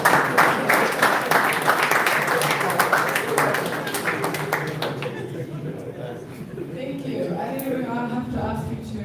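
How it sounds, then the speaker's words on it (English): A crowd applauds at a formal validation event for the Gambia National Enterprise Architecture, with dense rapid clapping that starts loud and gradually thins and fades, giving way to murmured voices and talk. "give him another round of applause for his part"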